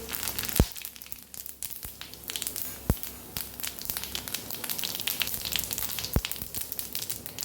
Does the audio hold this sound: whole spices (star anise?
yes